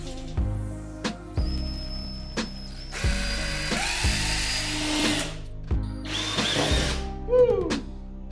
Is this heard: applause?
no